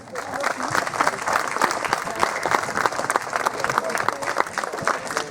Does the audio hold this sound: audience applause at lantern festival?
yes